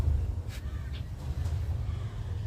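A crow caws a couple of times at moderate distance over a steady low background rumble.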